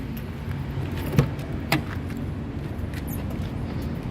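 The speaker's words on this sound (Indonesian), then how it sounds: "Oke, kita coba buka mobil." A 2006 Suzuki APV 1.5 with a manual gearbox is unlocked with its key: two sharp mechanical clicks about half a second apart, close by, over a steady low background hum.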